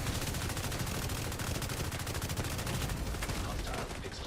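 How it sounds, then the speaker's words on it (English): Rapid SMG fire with shock ammo in The Division 2, a dense unbroken burst of automatic shots that stays loud and close for the whole stretch, with no pauses between rounds. "It's a shock ammo with like a SMG."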